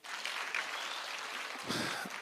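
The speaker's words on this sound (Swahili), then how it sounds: "Haya, pigieni Governor makofi." Crowd at an outdoor security meeting bursts into sustained applause for the governor, steady clapping throughout with a brief louder swell near the end.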